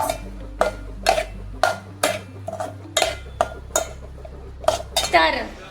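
Oil-free egg fried rice being mixed in a pan: a metal utensil knocks and scrapes against the pan in a steady run of about a dozen sharp clinks, close up over a low hum.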